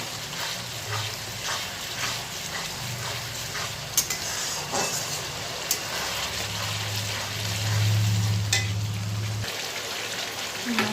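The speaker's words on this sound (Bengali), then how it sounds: "মশলাটা প্রায় কষা হয়ে গেছে" Spice paste for doi potol frying in a pan, with a continuous soft sizzle, occasional sharp clicks of stirring, and a low hum that swells partway through.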